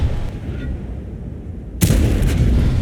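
A tank cannon shot in World of Tanks from the FV4201 Chieftain Proto: a low, continuous rumble of engine and battle ambience, then a sudden loud boom that stays heavy and sustained to the end.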